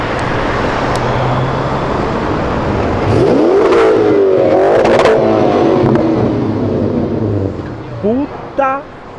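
A 4x4 V8 turbo S7 accelerates past at night in a street car-exit meet, its engine swelling loudly over steady traffic rumble and crowd chatter, followed by a few sharp rising revs near the end.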